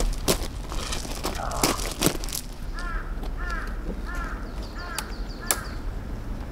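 A crow caws outdoors in the mountains, a series of short repeated calls at a moderate distance, mixed with close crinkling and handling noises and a few sharp knocks at the start.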